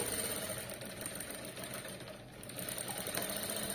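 A sewing machine stitches the front part of a princess-cut blouse with a shaped belt, a continuous close whirring hum that dips briefly in the middle before resuming.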